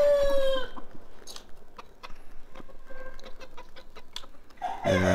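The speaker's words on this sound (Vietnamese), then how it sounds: "Đây là gà tre nhá. Đây là gà rừng." Bantam chickens and junglefowl on a farm cluck repeatedly and crow in long drawn-out calls, with a crow at the start and another loud one at the end, close and clear over faint background noise.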